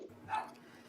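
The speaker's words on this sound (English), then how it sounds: "Excuse my dog." A dog gives a single short bark or yip indoors, faint and brief against a quiet room, while someone talks about football training camp nearby.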